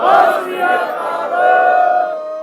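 A crowd at a political gathering shouting the Sikh jaikara response in unison, one loud sustained chorus of voices swelling and fading over a couple of seconds.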